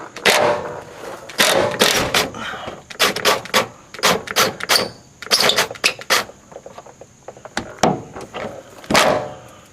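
Fuel tank strap being knocked loose under a 1995 Honda Accord: a rapid series of sharp metallic taps and clanks in uneven bursts, close and loud, with no talk.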